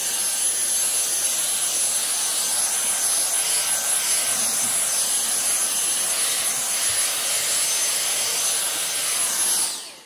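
Dyson V6 Animal cordless stick vacuum running steadily on turbo (max) power, a loud continuous high-pitched motor whine and airflow rush that holds for about ten seconds before cutting off abruptly at the end.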